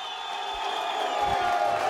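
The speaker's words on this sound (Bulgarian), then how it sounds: "Аплодисменти!" A crowd at a Bulgarian professional boxing championship belt event gives a steady wash of cheering and applause, moderately distant and fairly even throughout the short stretch, with a few low thumps and some voices mixed in.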